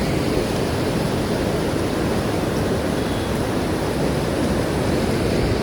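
Sea waves on a Konkan beach in Maharashtra, a steady broadband roar of surf with no distinct breaks, loud and continuous throughout, with no voices.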